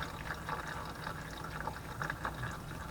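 Motor oil draining from the oil pan of a Pontiac G6 during an oil change, a steady, fairly quiet liquid pouring and trickling sound that runs continuously.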